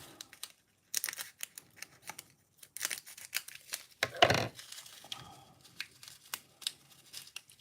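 A bag of rocky mix for a miniature scene is snipped open at the top: quiet, sparse crinkles and cutting sounds in a hushed room, with one sharper, louder rip midway.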